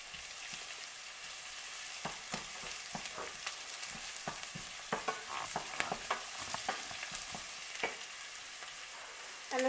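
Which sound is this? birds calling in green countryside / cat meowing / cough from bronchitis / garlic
garlic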